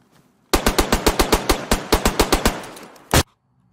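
Rapid automatic gunfire in a video game, a burst of about fifteen sharp, loud shots in quick even rhythm, then a brief pause and one final shot.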